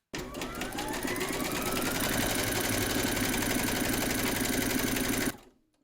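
An embroidery sewing machine stitches a placement outline in a hoop, a loud, fast mechanical whir that runs continuously for over five seconds, then stops abruptly.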